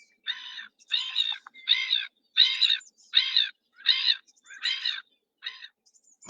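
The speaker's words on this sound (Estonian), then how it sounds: "See oli naerukajakas." Black-headed gull giving a series of about eight harsh, laughing calls in a steady rhythm, each call a short burst with brief gaps between, fairly close and clear against a silent background.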